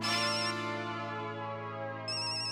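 Mobile phone ringtone playing a bright repeating electronic melody, close and clear, with no voices.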